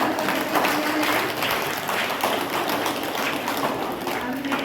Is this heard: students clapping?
yes